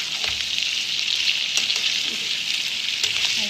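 Chicken pieces frying in desi ghee for garlic chicken, a steady close sizzle running throughout with faint crackles and no talking.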